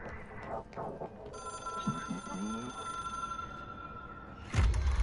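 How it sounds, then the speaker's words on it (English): A telephone rings in the video game Control, its steady electronic bell tone holding for several seconds over a low ambient background, with a louder burst of noise at the end. "It is a phone."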